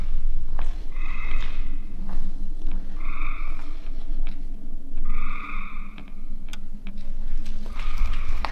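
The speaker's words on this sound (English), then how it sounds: "you're going to hear a lot of frogs singing." Frogs croak in repeated bursts every couple of seconds, loud and close, from a flooded pit in an abandoned mall, over a low rumbling background with occasional knocks.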